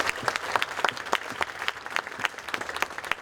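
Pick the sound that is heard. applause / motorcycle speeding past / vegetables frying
applause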